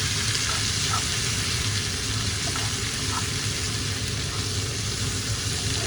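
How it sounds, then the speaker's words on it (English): Chopped onions and peppers sauté in a pan where prawns are cooking for a Jamaican jerk dish, giving a loud, continuous close-up sizzle with no pauses. "put in my chopped onions and peppers,"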